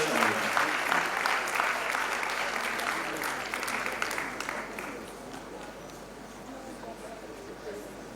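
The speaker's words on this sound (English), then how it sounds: "Please keep clapping." Sustained applause from an audience honoring a top candidate at a West African Examinations Council ceremony in Freetown, Sierra Leone, dense and steady at first, then gradually thinning and softening toward the end, with voices faintly mixed in.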